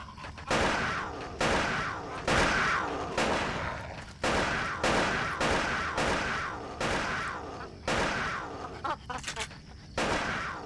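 Repeated bursts of video game gunfire in Silent Hill 4, loud and close, arriving in clustered volleys roughly every second or so across the stretch with brief gaps between.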